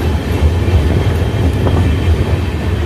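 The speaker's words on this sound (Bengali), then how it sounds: "ধীরে ধীরে শহীদ এক্সপ্রেস হাওড়া রামপুরহাট শহীদ এক্সপ্রেস তার গতি নিতে শুরু করছে।" The Howrah–Rampurhat Shahid Express rolls along, heard from on board as a loud, steady low rumble of wheels and carriage with faint rhythmic clatter throughout, and no voices.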